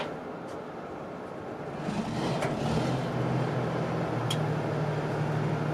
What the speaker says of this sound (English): you can hear that heavy Detroit diesel roar